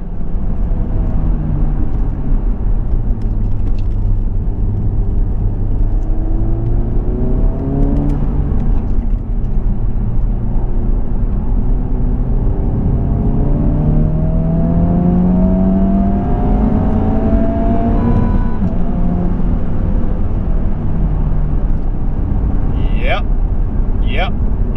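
A 2023 Honda Civic Type R on a race track pulls hard in third gear through an S-turn, its engine note climbing in steady rising sweeps with loud, close intake and exhaust roar and wind noise, and a person talking over it.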